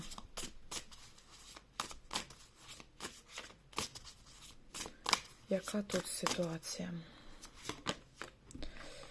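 Tarot cards are shuffled rapidly in repeated riffling bursts close by, while a person speaks briefly over them.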